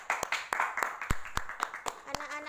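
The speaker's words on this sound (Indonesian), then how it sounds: "Oke, boleh tepuk tangan untuk kita semua." Children in a primary school civics class clap together, a close, fairly loud run of sharp claps in a loose rhythm, with a short spoken voice near the end.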